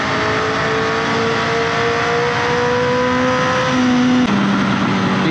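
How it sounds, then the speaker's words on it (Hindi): A Honda CBR motorcycle engine drones steadily as it rides through curves, the pitch slowly rising, then jumping with a gear change near the end, loud and continuous. "इतने दिन बाद में आज CBR को कर्व्स में ले जाते हुए।"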